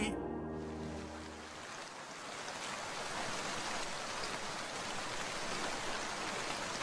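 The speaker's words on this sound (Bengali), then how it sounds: "বাইরে কত ঝড় বৃষ্টি হচ্ছে দেখেছেন বাবু?" Storm and heavy rain in an animated flood scene: a dense, steady hiss of rainfall and wind fills the whole stretch at an even loudness, following a brief tonal sound at the start, with no speech.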